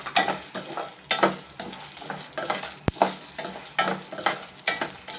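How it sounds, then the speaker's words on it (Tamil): Cinnamon and cloves dry-roast in a pan with poppy seeds, stirred constantly: rhythmic scraping bursts of a spoon over a crackling sizzle, close and fairly loud, with one sharp knock against the pan partway through. "வாசனை வர வரைக்கும் நல்லா வறுக்கணும்."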